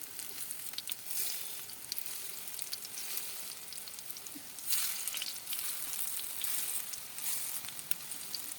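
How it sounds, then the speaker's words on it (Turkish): Green lentil köfte sizzle and fry steadily in hot oil in a pan, a continuous crackling hiss with a slight surge midway as more patties are added. "Yağım biraz kızmaya başladı ve köfteleri yağın içine bırakmaya başladım"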